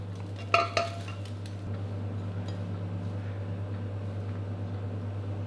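A spatula clatters against a pan as a Thai crispy oyster omelette with bean sprouts fries, a couple of sharp scrapes early on, then a steady low hum from the stove or hood continuing alone.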